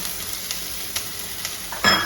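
Chopped shallots and garlic fry in hot oil in a pan for a drumstick-leaf stir-fry, a steady close sizzle with a sharper hiss and stir near the end.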